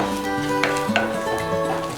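Hibiscus flowers sauté in a pan, wilting and turning pink while being cooked for hibiscus rasam. A soft, steady sizzle runs throughout beneath a faint tonal background, with a few light stirring touches.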